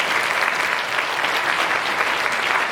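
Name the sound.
applause at wedding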